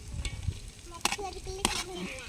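Cabbage frying for village-style veggie fried rice, a soft sizzle broken by a couple of sharp scraping stirs from a spatula in the pan.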